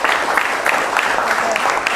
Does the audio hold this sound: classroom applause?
yes